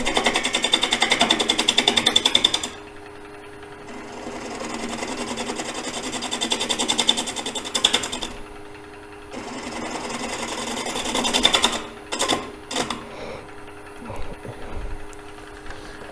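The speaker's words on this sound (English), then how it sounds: "If I turn this lathe faster, I'll get a smoother cut." A wood lathe turns a bowl at roughly 600 RPM while a tool cuts along its side, giving a steady motor whir with rough scraping bursts that stop and restart several times, ending in short choppy cuts.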